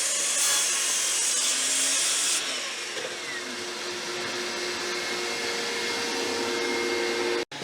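Power saw ripping a big cut through clamped wood on a hybrid workbench, a steady loud whine with broadband cutting noise that holds for several seconds and then stops abruptly at the end.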